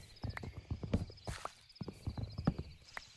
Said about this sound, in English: Also, I hear a horse.